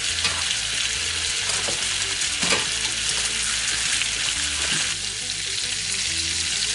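Meat sizzling and frying steadily in a hot pan, a dense continuous crackle close by with a few brief louder spits and clinks, no talking.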